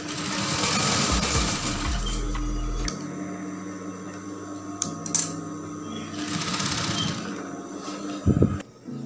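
A sewing machine stitches darts in a brocade dress panel, its steady motor whir running in long bursts with short pauses between them, each start and stop clear and close, with no talking.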